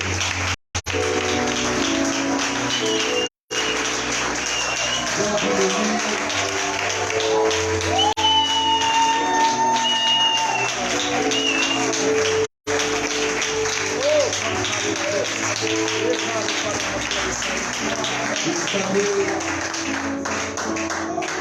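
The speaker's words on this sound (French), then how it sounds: "Est-ce que tu peux acclamer?" An audience at the Mur de Jéricho 2023 church conference claps and cheers in a sustained, loud wave of applause with a few brief cutouts. Voices rise over it, and a sung or sustained tone drifts through the middle.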